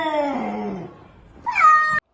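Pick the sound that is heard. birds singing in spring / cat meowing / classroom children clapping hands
cat meowing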